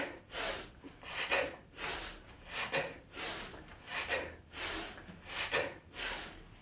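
Repeated sharp sniffs in through the nose, about seven in a steady rhythm, close and fairly loud with no talking.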